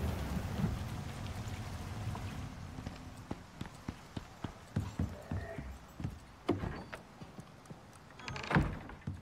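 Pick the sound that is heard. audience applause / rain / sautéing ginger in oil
rain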